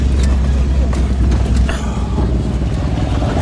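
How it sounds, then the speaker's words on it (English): Deep, loud engine and exhaust rumble from a vintage Chevy truck at Silver Lake Sand Dunes, a continuous heavy idle with slight surges, voices faintly mixed in. "The truck sounds great."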